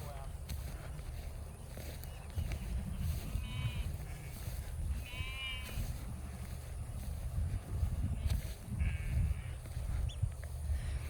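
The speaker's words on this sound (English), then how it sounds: "We have a group of seasoned ewes and they're pretty accustomed to doing this" Ewes bleat several times while being moved to a paddock before lambing, the calls rising over steady wind and outdoor rumble, with a voice talking through much of it.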